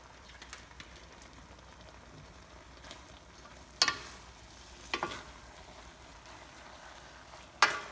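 Ampalaya with corned beef is stirred in a pan, giving a soft, faint sizzle broken by a few sharp scraping clatters of the utensil against the pan.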